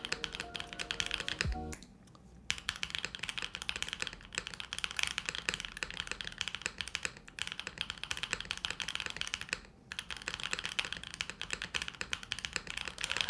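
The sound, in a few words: typing on mechanical keyboard with pre-lubed switches, spacebar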